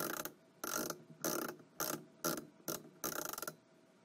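A ratcheting tool tightens a screw on an RV camper trailer's exterior door handle. About seven close, loud bursts of rapid clicking are separated by short pauses, with no voices.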